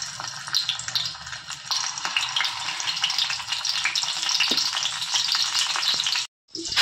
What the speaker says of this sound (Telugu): చూడండి, ఆయిల్లో వేసుకోవాలి ఇలా అన్నీ.